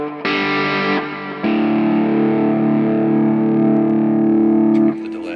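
Distorted electric guitar lead played through a pedalboard with stereo delay, a few sustained notes and a long held tone ringing with echo and effects, fairly loud and close with no talking.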